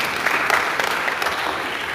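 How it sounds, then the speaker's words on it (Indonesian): A church congregation claps in steady, dense applause throughout, fairly loud and close with no voices over it. "Berikan tepuk tangan buat Tuhan Yesus."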